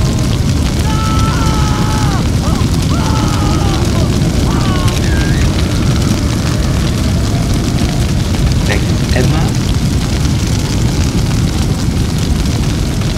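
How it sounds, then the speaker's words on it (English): Fire burning in The Sims 1 video game, a steady low crackling roar that fills the whole stretch, with synthetic game chirps and warbling tones over it and a few short pops near the middle. "the fire is still going on"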